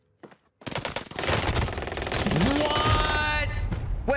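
Sustained automatic gunfire rattles continuously in Call of Duty Warzone, a dense burst of rapid shots after a short lull, loud and close, with a player's voice and game effects mixed in.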